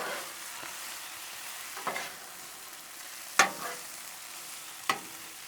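Fried cabbage and garlic are stirred on a Blackstone griddle, with a spatula scraping in a few separate strokes over a soft, steady sizzle, heard up close with no one talking.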